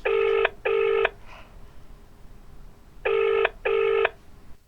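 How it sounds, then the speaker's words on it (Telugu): Outgoing telephone call ringing back in two paired bursts of electronic tone, a pause, then another identical pair, steady and fairly loud with no talking. "రింగ్ అవుతుంది అది కూడా."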